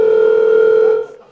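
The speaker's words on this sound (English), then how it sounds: "Very loud phone." A loud telephone tone holds one steady pitch for about a second before cutting off abruptly, leaving near silence.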